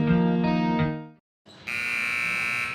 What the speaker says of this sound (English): Buzzer sound